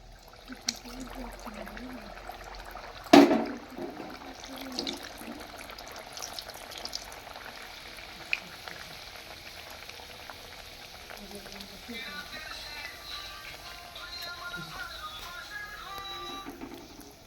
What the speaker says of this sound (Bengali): এবার তেলটা গরম হয়ে গেছে, আমি এবার কচুরিটা ছেড়ে দিচ্ছি